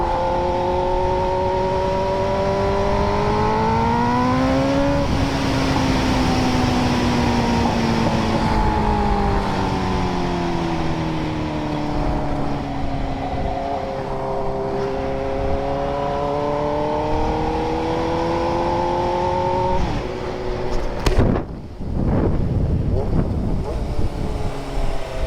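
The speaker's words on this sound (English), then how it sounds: "Clutchless downshifts." A motorcycle engine on a nighttime ride in Mexico drops through clutchless downshifts, its pitch stepping and sliding between gears under steady wind rush, with a sharp blip near the end.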